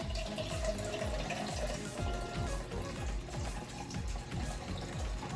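Water pours steadily into a measuring cup, a continuous splashing rush with a faint rising pitch as it fills.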